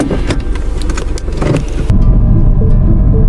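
A Mini Cooper S car driving, with a steady engine and road drone heard up close from inside, a brief clatter partway through, then a fuller, louder rumble.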